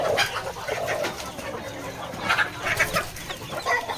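Village chickens clucking, including a small hen with her chicks, in a farmyard at night; repeated soft clucks and chirps, close and moderately loud, with little talk.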